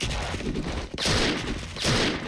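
A Platinum Double Winchester shotgun fires in the shooter game Special Force, two heavy blasts about a second apart, each a loud close boom with a sharp attack over constant game noise.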